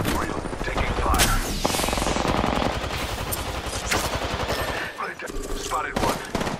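Rapid automatic gunfire rattles continuously in the Apex Legends video game, loud and close with sustained bursts and brief pauses, while in-game voices talk over it.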